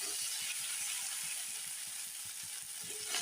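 Ginger, garlic and onion frying in a pan, a constant close bright sizzle with a soft rhythmic scraping of stirring beneath it, steady and alone.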